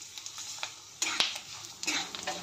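Sesame seeds are added to a pan of roasting peanuts, split chickpeas and curry leaves and stirred, giving a soft sizzle with a few scraping stir strokes and light rattles, close and brief.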